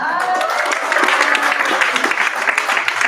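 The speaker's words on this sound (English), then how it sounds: "go ahead and give the Mechanics Institute another round of applause" An audience at a storytelling showcase gives the Mechanics Institute a round of applause: loud, close, continuous clapping with distinct individual claps standing out, lasting about three seconds.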